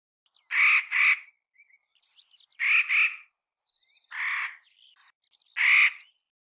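A nutcracker bird gives four harsh, raspy calls in separate bursts about a second apart. The calls are close and clear against silence, with no voices.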